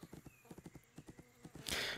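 Horse hooves clip-clop in a quick, even rhythm of about a dozen light strikes, then a bright neigh breaks out at the end, from the video game The Unicorn Princess.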